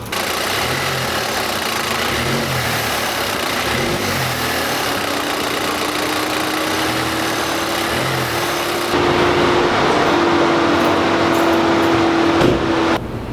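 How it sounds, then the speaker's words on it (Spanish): A car engine idles steadily after a serpentine belt replacement, a continuous close, even running hum with no squeal or talk over it. "Y voy a prender el auto para estar seguro de que no cause absolutamente nada de ruido."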